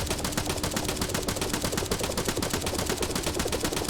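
Dense automatic gunfire in Arma 3 pours at an enemy technical, a loud, unbroken rattle of rapid overlapping shots filling the whole moment without any talk.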